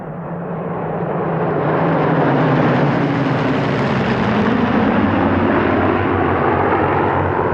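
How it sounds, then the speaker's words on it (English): Nine Spitfires flying in formation over the Duxford airshow, their piston engines a broad, loud continuous roar that swells over the first few seconds and then holds steady and full throughout. "A formation of 9 Spitfires led by Ray Hanna"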